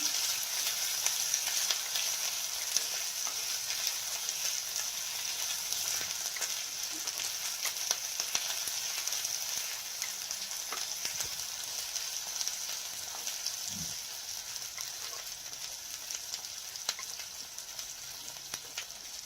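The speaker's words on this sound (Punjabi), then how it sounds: "ਗੈਸ ਲੋ ਹੀ ਰੱਖਣਾ ਚੰਗੀ ਤਰ੍ਹਾਂ ਭੁੰਨ ਲੈਣਾ" Ingredients roast in a pan over a low gas flame for red chili pickle, giving a soft, continuous sizzle and crackle with occasional stirring scrapes, steady and fairly quiet throughout.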